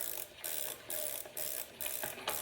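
A bicycle cassette on a Freesky Swift Horse bike being unscrewed with a tool, giving a run of sharp ratcheting clicks in about five regular bursts, close and fairly loud, with no voices.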